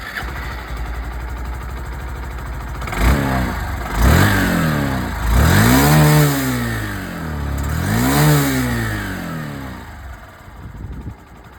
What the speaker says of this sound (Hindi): और अब मैं आप लोगों को यहाँ पर शाइन 100 DX की आवाज़ भी सुना दूँ।